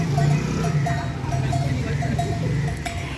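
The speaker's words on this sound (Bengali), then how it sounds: "এই গরুর গলার ঘন্টার আওয়াজটা শুনে কিছু মনে পড়লো আপনাদের?" Cowbell hanging on a cow's neck clanking in a repeated, uneven rhythm close by, with low rumbling background noise.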